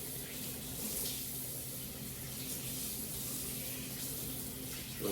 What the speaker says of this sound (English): wash all that brine off in cold water